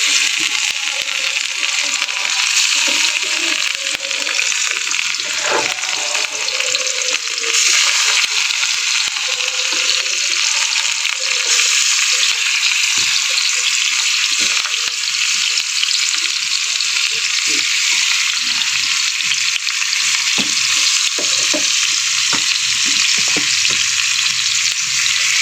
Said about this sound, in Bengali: এবার মাছগুলো এক এক করে ভেজে নেব।